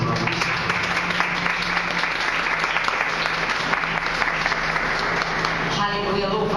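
Congregation applauding in a church during a sermon, loud sustained clapping throughout with crowd voices mixed in, and a tonal music or voice line emerging near the end.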